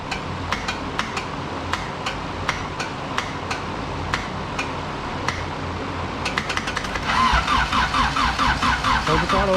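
Turbocharged Honda D16 engine with a GTX3576R turbo on a Vitara-swapped EF hatch cranks with sharp, evenly spaced clicks, then fires into a loud, throbbing idle for the last few seconds.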